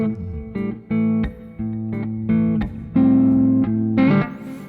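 Steady finger-picked guitar riff played without the pull-off, clean plucked notes ringing in a regular rhythm with sustained bass tones, close and alone with no talking.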